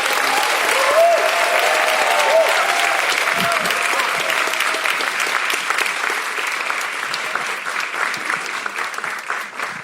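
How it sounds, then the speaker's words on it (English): An audience applauds at an anniversary event for Brown v. Board, a loud continuous roar of clapping that holds steady and tapers slightly toward the end, with a few faint voices underneath. "please give another big round of applause to Stefan and Damon."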